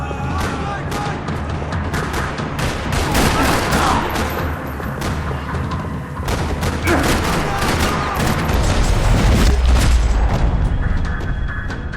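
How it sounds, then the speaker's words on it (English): Dense, loud gunfire and booming explosions fill a parking lot battle in Max Payne 3, with rapid rattling bursts, heavy low thuds and continuous chaotic action sounds throughout. "Another parking lot rattling with gunfire."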